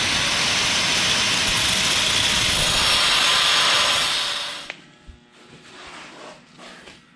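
Grinder cleaning the edges of a broken swingarm bolt hole on a Honda 400ex ATV, a loud, steady high-pitched whine that runs for about four and a half seconds, then stops and winds down into faint clatter.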